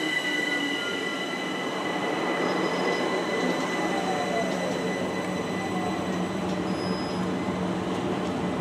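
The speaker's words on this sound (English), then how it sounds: "There goes 350-375 heading from Crewe to London Euston" A Class 350 electric multiple unit passes on the West Coast Main Line toward London Euston, a steady rolling rumble with high metallic wheel squeal ringing over it.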